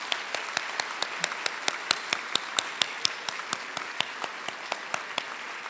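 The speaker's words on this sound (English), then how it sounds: "Give yourselves a round of applause." A small conference audience claps in a steady, sparse rhythm of distinct individual claps, moderately near and fairly quiet, with no talk over it.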